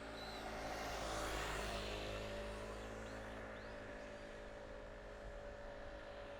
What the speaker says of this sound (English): Here comes a moped down the cherry blossom tunnel.